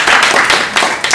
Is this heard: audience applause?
yes